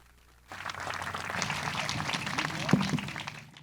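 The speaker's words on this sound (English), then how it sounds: "Round of applause, please." An audience at a gala fireside chat breaks into steady applause after a short quiet moment, the clapping moderately loud and sustained, with faint voices underneath.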